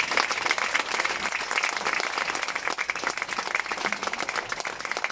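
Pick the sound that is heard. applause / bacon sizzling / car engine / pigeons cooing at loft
applause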